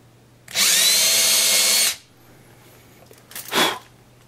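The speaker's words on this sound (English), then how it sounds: "So let's drill the hole." A power drill bores a hole during a guitar neck installation, one loud steady burst of about a second and a half up close, then quiet and a short breathy noise near the end.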